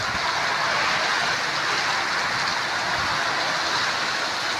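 Heavy rain pours during a windy night storm in Layyah, a dense steady hiss and patter that stays loud and unbroken throughout, with no voices.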